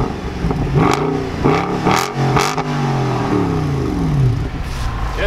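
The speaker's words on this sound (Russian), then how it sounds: "Давайте мы послушаем звук этого вот именно выхлопа." A Mercedes-Benz C63 AMG exhaust revs hard several times, each blip rising and falling in pitch, loud and close with a rumbling idle between bursts.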